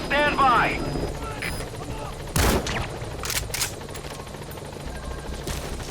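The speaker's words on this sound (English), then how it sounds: "Support helicopter has arrived." A support helicopter in Metal Gear Solid V: The Phantom Pain arrives with steady rotor thrum and loud whooshing bursts, mixed with game effects and brief radio-style chatter.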